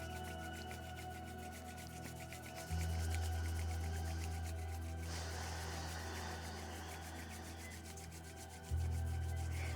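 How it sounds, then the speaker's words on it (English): Palms rubbed briskly together to warm the hands, a steady close-up dry rasping friction that continues alone throughout over a low constant hum, with no talking. "And let's keep rubbing those hands, bringing in our pitta quality of fire."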